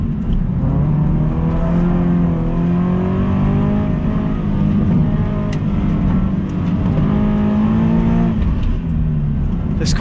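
A Subaru BRZ engine roars loudly from close by on a race track, revving up through the gears in rising sweeps toward the back straight, with a short shift break before climbing again.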